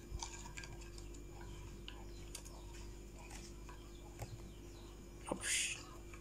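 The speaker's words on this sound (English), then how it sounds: "I stir it vigorously, gently stir it up, make sure it mixes up very well." A spoon stirs Café Troika and Red Yeast Coffee in a cup, giving faint, irregular clinks and taps against the cup that end in a brief louder scrape.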